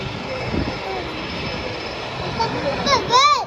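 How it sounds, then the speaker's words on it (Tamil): IndiGo domestic airplane flying over near an international airport, heard from an outdoor market in Pallavaram, a steady distant engine roar under busy chatter, with a voice rising near the end. "அதுவும் ஃப்ளைட் வருது, இப்போ ஃப்ளைட் வருது."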